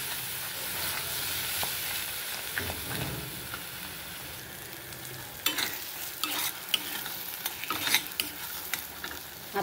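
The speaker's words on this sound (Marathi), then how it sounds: "ते टोमॅटो पण आपल्याला छानपैकी आता हे मसाल्यामध्ये मिक्स करायचे आणि थोडं परतून घ्यायचं 5 मिनिटासाठी" Tomato puree stirred into a sizzling masala in a pan for a vegetable Maratha kofta curry, with a steady frying hiss and scraping spoon strokes that grow louder and more frequent toward the end, no voices.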